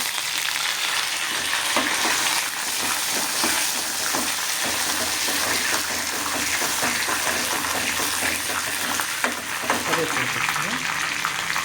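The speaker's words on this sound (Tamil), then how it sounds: "கடாயில் எண்ணெய் ஊற்றி இப்போ முதல்ல இது எல்லாம் வதக்கணும்" Curry leaves and ingredients sautéing in hot oil in a kadai on a stove, a loud continuous sizzle and crackle with occasional stirring scrapes throughout.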